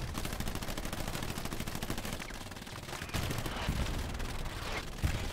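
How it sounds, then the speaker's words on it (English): Machine gun fire in a World War 2 shooter game, a dense stream of rapid automatic bursts running through the whole stretch with heavier booms mixed in, loud and close. "MG fire"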